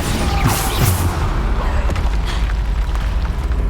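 Bombarda, the exploding spell in Hogwarts Legacy, goes off as a loud booming burst with whooshing, sweeping magical effects and rumbling debris, full and continuous throughout.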